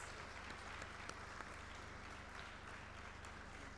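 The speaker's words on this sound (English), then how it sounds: "a huge round of applause, please" An audience at a FICCI ladies' organization event applauds, a steady, fairly faint wash of clapping with no break, heard from a distance.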